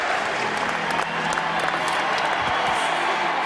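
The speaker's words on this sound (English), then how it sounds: "The crowd is chanting again, Gretzky." A hockey arena crowd roars and applauds for Wayne Gretzky at his final game. The dense, steady wall of noise fills the space, with scattered whoops rising above it.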